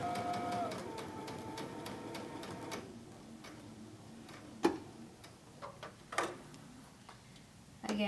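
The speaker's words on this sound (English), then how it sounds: "And sew your second row of shirring." A home sewing machine stitches a row of shirring on fabric for a tank top, its steady close whirring running for a few seconds and then giving way to brief clicks and handling knocks.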